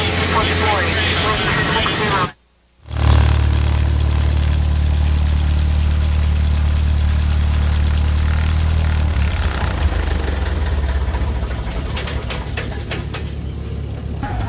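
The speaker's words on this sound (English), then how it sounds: "Dave, we'll pick up ATIS now and head back to the airport." A small propeller airplane in flight over open prairie, its engine droning steadily and loudly close by, with a short cut near the start and radio or cockpit talk over it.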